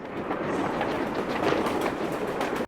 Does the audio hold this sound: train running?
yes